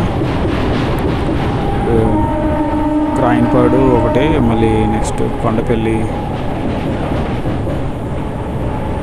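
A Vijayawada to Guntur passenger train rolls along the track with a loud, unbroken rumble and wind roar throughout, while someone talks close over it.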